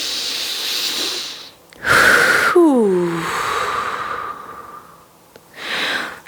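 Deep breaths during a yoga exercise: a long airy inhale, a louder rushing exhale with a falling whistling tone, then another breath, close and unhurried with no talk.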